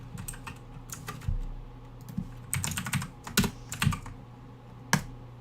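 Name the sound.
typing code on a computer keyboard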